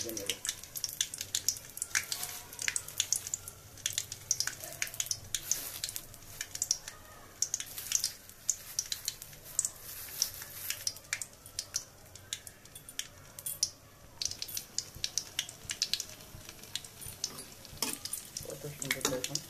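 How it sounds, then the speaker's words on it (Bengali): Singaras, filled pastries also called samosas, deep-fry in hot oil with a steady crackling sizzle. Stirring clatters now and then. The sound is fairly faint and close, with no clear talk. "কত সুন্দর দেখুন সিঙ্গারা ভেজে নেওয়া যায়।"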